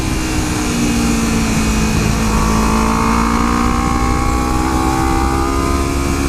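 A motorcycle cruising at a moderate highway pace, engine droning steadily and loud throughout with heavy wind rush over it, no clear shifts in pitch.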